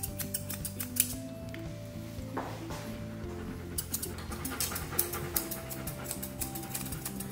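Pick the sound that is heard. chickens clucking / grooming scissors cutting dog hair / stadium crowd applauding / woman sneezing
grooming scissors cutting dog hair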